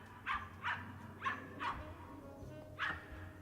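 A dog barks in sharp separate yips, about six across a few seconds, fairly faint and unaccompanied by talk, with a small whimpering quality.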